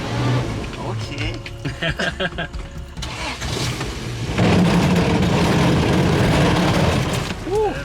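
A jeep engine rumbles loudly on a rough ride in the Kanuku Mountains of Guyana, with rattling and thumping from the vehicle, and a person speaks briefly near the start.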